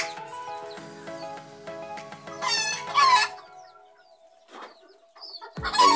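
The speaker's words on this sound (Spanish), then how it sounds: "Ahí están las gallinas" Chickens cluck and squawk close by, with a rooster crowing partway through and scattered bird calls between the bursts.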